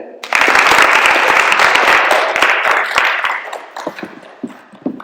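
A burst of applause from a group at a school public speaking event breaks out, sustained for a few seconds, then thins to scattered claps and trails off.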